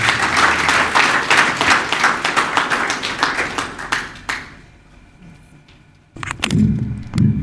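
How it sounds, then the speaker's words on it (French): Applause at a Christmas book launch, a crowd clapping loudly and densely for about four seconds before fading to quiet, followed by a few thumps and a voice beginning near the end. "Gros applaudissements donc pour"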